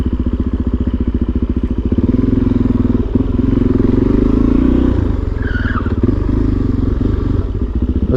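A Yamaha XSR 700 motorcycle engine runs steadily while riding, a loud close pulsing exhaust drone with rapid even firing beats that swell slightly mid-ride and ease toward the end, with no speech.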